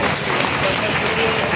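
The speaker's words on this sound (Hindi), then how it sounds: "हमारे डॉक्टर लीम सिंह के लिए एक जोरदार ताली होनी चाहिए" Loud, steady applause and clapping from a crowd honouring Dr. Leem Singh at a public talk, continuous dense clatter filling the whole stretch with crowd noise mixed in.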